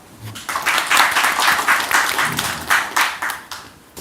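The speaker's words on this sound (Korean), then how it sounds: "박수 부탁드립니다" An audience of people in their thirties applauds the prime minister at a town-hall discussion, the clapping swelling quickly, holding full and dense, then thinning toward the end.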